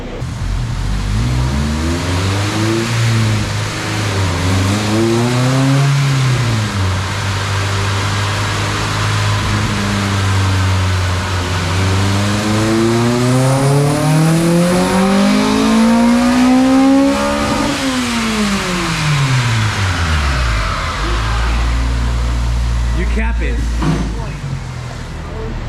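Honda Integra with a swapped JDM K20A engine and raised cold-air intake on a dyno, roaring loudly as it climbs through the revs in repeated pulls, dips and rises before easing back near the end.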